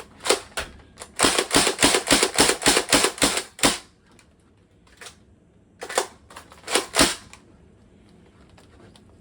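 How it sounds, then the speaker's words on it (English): An Adventure Force Nexus Pro X toy blaster is slam-fired, giving a fast string of sharp, loud mechanical clacks in quick succession, then a pause and a few more scattered shots, close to the listener. "Now time for slam fire."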